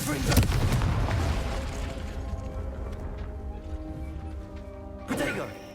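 A Confringo blasting spell in Hogwarts Legacy bursts into a heavy, booming explosion that rumbles and fades over several seconds before a second sharp blast hits near the end.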